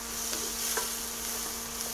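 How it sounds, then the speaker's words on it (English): Onion cooks in a pan for apple risotto, producing a constant, even sizzle up close with a few light stirring clicks over a faint steady hum. "Onion in the pan. I'll let those cook for a second."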